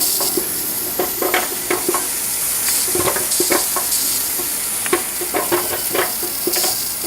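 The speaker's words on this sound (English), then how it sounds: "You can hear the boiling." Close, busy bubbling and crackling like liquid at a rolling boil inside a Presto pressure canner holding jars of pulled pork, with irregular ticks and pops over a steady hiss.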